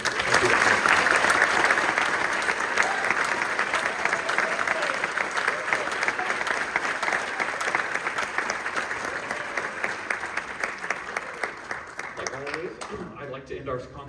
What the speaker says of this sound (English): one all-encompassing round of applause for all that stuff